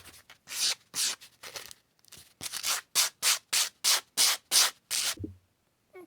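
Sandpaper pad rubbing along the edges of cut metal earring pieces, made of found metal such as tin cans or license plates: about a dozen rhythmic, raspy back-and-forth strokes, close and clear, ending in a small knock.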